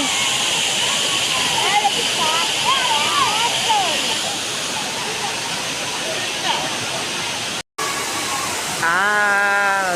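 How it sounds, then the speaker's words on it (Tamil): Rushing water at Courtallam waterfall, a loud continuous roar of falling water filling the scene, with faint voices and brief tonal sounds over it and a momentary cut near the end. "தண்ணி ஸ்பீடாக விழுகிற மாதிரி இருக்கும்"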